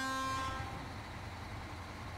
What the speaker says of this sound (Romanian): Ce claxon are ăla?